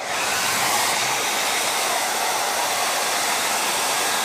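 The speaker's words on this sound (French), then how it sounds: "Sèche-cheveux, position chaude, très chaude." A hair dryer set to very hot blows with a steady, loud, close whoosh that holds without break, used to heat and soften glue during a craft job.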